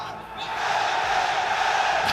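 A live crowd roars with cheering at a Call of Duty League esports tournament in Paris. The broad, steady din builds and holds under a speaking voice.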